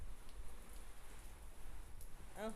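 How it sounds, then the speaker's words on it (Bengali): Steady hiss of rain pouring down without a break, close and even, with a faint short tone near the end. "জোরে বৃষ্টি হচ্ছে ঝাঁপিয়ে বৃষ্টি হচ্ছে"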